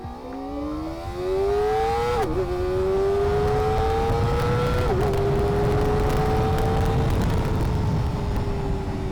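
A Kawasaki ZX4RR motorcycle rides through sunny Kyiv, its high-pitched engine note climbing steadily as it accelerates, with two brief dips at gear changes before rising again, loud and close throughout.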